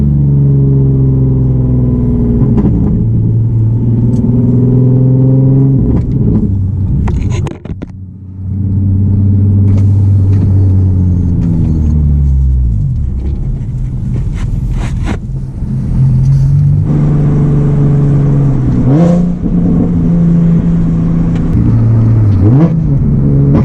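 A loud tuned Nissan 370Z engine revs and shifts down from third to second gear, with the pitch rising and falling through several sharp surges and a brief dip partway through, heard close and with no talking.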